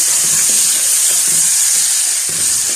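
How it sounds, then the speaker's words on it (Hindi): Tomatoes fry in browned garlic-ginger paste for a potato and egg curry, a loud, dense sizzle running throughout with soft rhythmic stirring knocks underneath. "अब इसमें हम जो है ना टमाटर ऐड करेंगे, ठीक है। तो इसको हम अच्छे से जो है ना इसमें भूनते हैं।"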